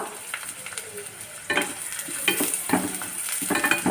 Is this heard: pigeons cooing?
no